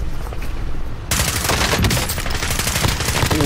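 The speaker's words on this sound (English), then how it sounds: "Dude, what kind of gun is that?" Rapid automatic gunfire from a gun in a first-person video game battle, a quieter burst giving way to a loud, dense stream of shots that keeps going, near and without talk.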